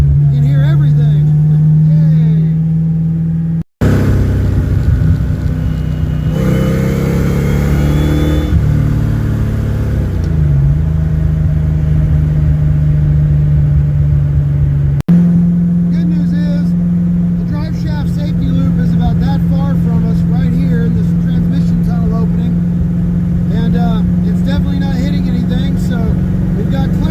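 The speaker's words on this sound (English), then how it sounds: "Now we can hear every gear, hear the clutch engage, you can hear everything." Ford Mustang drivetrain with the center console removed, transmission gears whining and clutch engaging over a steady low engine drone, loud and close, with a brief cut and a shift in tone midway.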